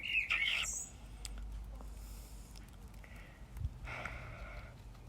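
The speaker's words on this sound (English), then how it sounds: "Bird." A few bright, quick bird chirps near the start, with a fainter chirping burst later, over low room hum and light movement noise.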